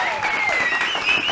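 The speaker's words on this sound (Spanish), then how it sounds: "¡Aplauso para los chicos!" A short burst of clapping and cheering for the hosts of a comedy podcast, with a whistle-like tone sliding through and voices talking loudly over the applause.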